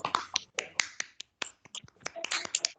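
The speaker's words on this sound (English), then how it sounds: "Clap for him." Scattered, sharp claps come from a small group at a school Form 4 coffee morning, arriving in uneven bursts with brief silent gaps between them, fairly quiet overall.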